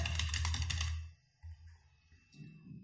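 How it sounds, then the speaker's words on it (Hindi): Computer keys clatter in a quick, dense run of close, crisp presses for about a second, then a few isolated keystrokes and quiet pauses follow. "कीबोर्ड से कंट्रोल के S प्रेस करेंगे"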